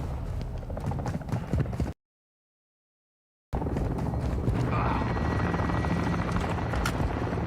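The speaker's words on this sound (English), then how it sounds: "Hostile Overwatch helo in the area." An enemy overwatch helicopter in the Call of Duty Warzone battle royale game, a steady loud rotor drone with dense chopping texture that cuts out briefly and then returns just as strong.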